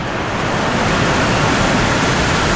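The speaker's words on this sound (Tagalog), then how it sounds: "Lakas na naman ng ulan." Heavy typhoon rain pours down steadily as a dense, loud, unbroken roar that fills the whole clip with no breaks and no voices.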